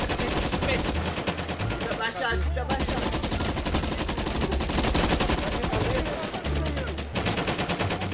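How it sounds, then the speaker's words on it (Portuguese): Rapid bursts of gunfire in GTA 5 crackle almost continuously, dense and loud, with a couple of short pauses between volleys. "Olha, é o tiro, cuidado, é o tiro!"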